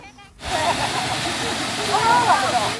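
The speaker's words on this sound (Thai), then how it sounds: "น้ำตกแห่งนี้อยู่ติดกับถนนเลยค่ะ" Millaa Millaa Falls, a large waterfall beside a road, makes a broad steady roar that fills the clip right after a car door sound, with spray close by and faint voices.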